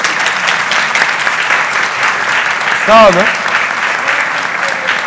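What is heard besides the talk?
applause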